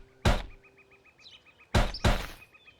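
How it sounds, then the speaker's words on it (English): Three sharp, firecracker-like pops from the Golf Story video game burst out separately, one early and a close pair near the end. Between them, soft chirpy game tones play quietly. "Now it sounds like firecrackers."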